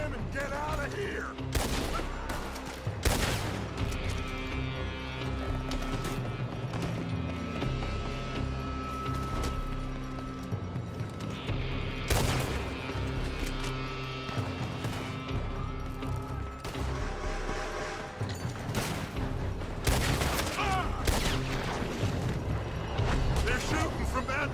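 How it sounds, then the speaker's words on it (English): Gunfire from a firefight in the Red Dead Redemption 2 video game, with sharp bursts of shots and impacts cracking throughout over dense game music and ambience, while voices shout warnings. "They're shooting from that building!"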